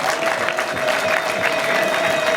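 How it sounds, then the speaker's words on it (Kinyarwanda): Guests at a wedding ring ceremony applaud together in a sustained, even round of clapping, with a faint crowd murmur and a steady musical tone beneath. "nimumuha amashyi nimumuha amashyi"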